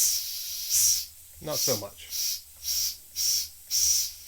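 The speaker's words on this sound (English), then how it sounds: "let's see if the new whistle topper without a split in it works better" Repeated hissing whistle bursts from the steam whistle of a repaired Weeden No. 500 toy steam engine, six breathy pulses about half a second apart over a low engine hum, with a brief spoken remark partway through.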